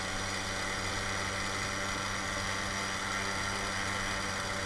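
A 1964 Peugeot BB moped running on a ride, a steady buzzing two-stroke engine note with vibration, continuous and fairly loud, with no voices.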